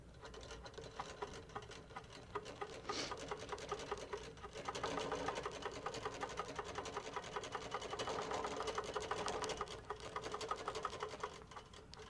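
A Moxie XL quilting machine basting the sides of fabric hums in a continuous rapid stitching patter, fairly quiet and steady throughout, with no talk over it.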